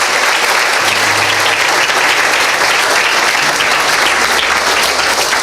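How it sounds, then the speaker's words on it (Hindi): A church congregation claps loudly and steadily for Jesus during a sermon, dense sustained applause filling the room from start to finish. "आइए यीशु के लिए ताली बजाएंगे।"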